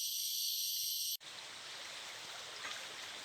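A steep creek near a cave in Mae Lanna flows in a continuous broad rushing wash, steady and fairly close, following a brief burst of high insect-like buzzing that cuts off abruptly.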